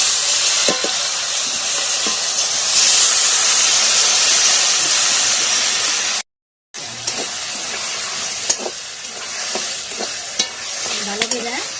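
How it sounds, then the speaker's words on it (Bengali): Mashed taro leaves hit hot oil tempered with black cumin, setting off a loud, continuous sizzle close to the pan, cut by a brief silence midway, then settling into steadier frying with faint clinks. "বাইটে রাখা কচু পাতা গুলা দিয়ে দিন।"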